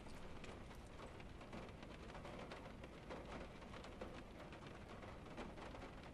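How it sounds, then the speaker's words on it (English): Steady heavy rain and low thunderstorm rumble from an indie horror video game, a dense continuous downpour filling the whole stretch with no voices over it. "Must get inside before the storm,"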